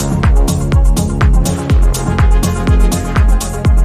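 A producer's own electronic track plays at full loudness, driven by a steady pounding kick, deep bass and dense synth layers with crisp hi-hats on top.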